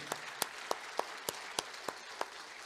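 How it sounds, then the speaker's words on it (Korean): Congregation at a Christmas Day joint worship service claps in praise, a faint, evenly spaced series of single sharp claps in a steady rhythm over quiet background noise, almost like one pair of hands keeping time. "다시 한번 박수, 영광의 박수 올리겠습니다."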